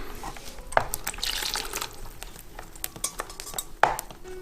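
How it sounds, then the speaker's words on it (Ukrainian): Eggs are poured and warm melted butter added into a bowl for Easter paska dough, with liquid splashes, soft stirring and sharp clinks of utensils and dishes close by, no speech. "Виливаємо яйця, додаємо тепленьке масло."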